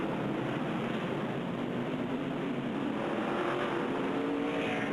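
NASCAR race cars roar past on the track as a dense, continuous engine drone that holds steady and loud throughout, with a faint whine of a passing car rising briefly near the end.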